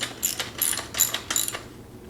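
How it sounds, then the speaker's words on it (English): A socket wrench tightens a nut on a sewing table's K leg set, giving a few quick rhythmic ratcheting clicks close by, then quiet. "you can secure that with either an adjustable wrench or a 22mm socket"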